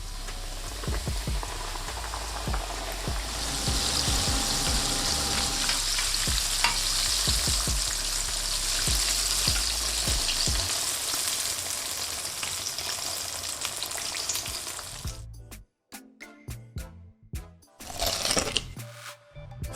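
Breaded chicken tenders fry in hot oil with a steady, dense crackle and sizzle that holds close and loud for about fifteen seconds, then gives way to scattered clatter and scraping with no one talking.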